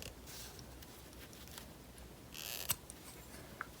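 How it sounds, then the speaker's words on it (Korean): Scissors snip through quilt bag interfacing in short crisp cuts, faint and close, with a couple of sharper clicks near the end in a quiet room. "심지를 여기까지 해주신 다음에 잘라주세요."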